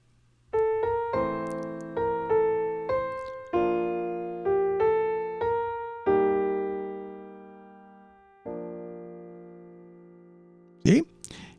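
Simplified song introduction played on a keyboard as a sequence of sustained chords with inversions, each chord struck cleanly and ringing before the next, slowing toward a long final chord, with a brief knock at the end.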